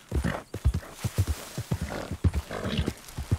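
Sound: horse hooves clip-clop, Red Dead Redemption 2 video game

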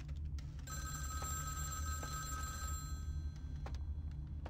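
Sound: telephone ringing in Vampire the Masquerade Bloodlines video game

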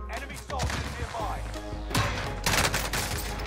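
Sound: 725 shotgun firing in Warzone video game

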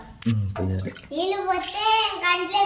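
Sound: water being splashed

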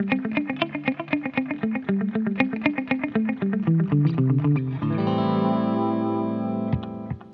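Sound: unmuted electric guitar through Harley Benton digital delay pedal

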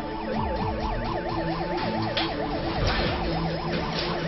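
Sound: ambulance siren arriving

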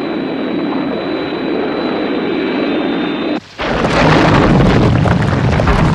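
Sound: Thunderbird 1 jet engine changing to horizontal flight

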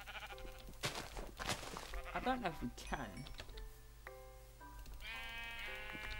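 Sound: sheep bleating in the video game Minecraft

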